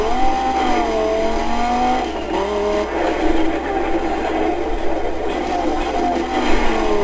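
A race car in the video game Need for Speed: Most Wanted drones loudly and continuously, its engine pitch climbing and dipping as it accelerates and shifts, with no voices.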